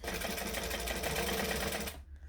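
A sewing machine runs steadily, stitching a decorative stitch at stitch length 4 while adding a back pocket to a bag; the continuous close whir stops abruptly near the end.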